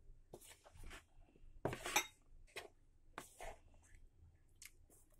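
A spoon stirs cornflour and flour together in a bowl for a crispy pasta namkeen, giving soft scraping and scattered clinks against the bowl in irregular bursts at close range.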